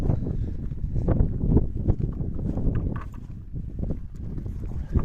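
Hooves clip-clopping slowly on the ground as a Percheron mare walks close by, with some wind noise.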